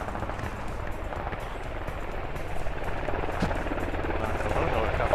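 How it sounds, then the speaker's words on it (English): Helicopter rotor drone in a video game, a steady broadband whir running throughout beneath game noise and bursts of gunfire. "Oh, hold on, helicopter, helicopter!"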